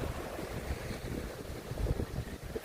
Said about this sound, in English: Just listen to the sound of that sea.